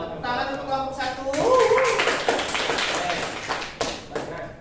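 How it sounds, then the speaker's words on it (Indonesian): A classroom of students claps for the first presentation group, a dense patter of hands starting about a third of the way in and continuing to the end, with voices heard over the opening and through the clapping. "Tepuk tangan untuk kelompok 1."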